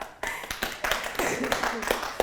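Studio audience applause at a game show, a short burst of scattered clapping with people talking over it.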